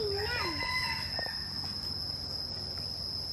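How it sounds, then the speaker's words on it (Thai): A rooster crows once at a tiger zoo in Ubon Ratchathani, Thailand, a long wavering call fairly near, over a steady high insect whine and faint background noise. "เสียงไก่ขัน"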